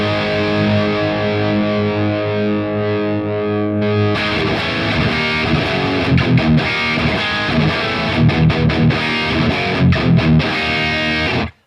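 An electric guitar plays through the PolyChrome DSP Nunchuck drive pedal, at first a sustained, heavily distorted chord, then a loud driven riff with sharp, choppy palm-muted hits and sustained notes.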